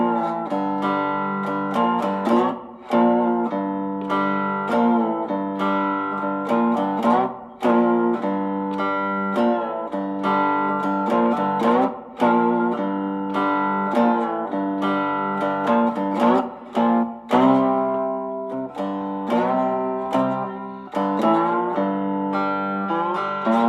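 Cigar box guitar picked slowly in a steady lesson-paced melody, sustained plucked notes ringing with brief gaps, played alone and close.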